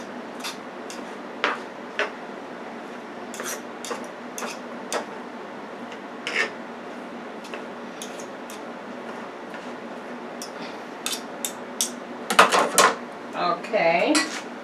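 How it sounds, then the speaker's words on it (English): A knife and fork clink and scrape against a plate while pulling apart tender BBQ beef, sparse metallic taps scattered over a quiet background, with a brief cluster of louder clatter near the end. "Just separate it with the knife going one way and the fork going the other way."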